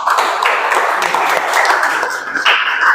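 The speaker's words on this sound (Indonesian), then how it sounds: "Kita beri tepuk tangan dulu." An audience in a classroom applauds after a group presentation, a dense, continuous patter of many hands clapping close by that holds steady with no talk over it.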